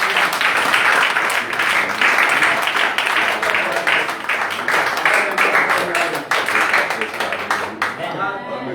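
A church congregation breaks into sustained applause and clapping, loud and continuous for several seconds, with voices mixed in beneath the clapping.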